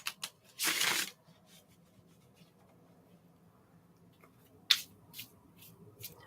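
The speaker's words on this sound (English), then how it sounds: "And I will shuffle the cards." A deck of tarot cards being shuffled close to the microphone in a quiet room, with one longer riffle followed by a few sharp snaps and soft brushing taps.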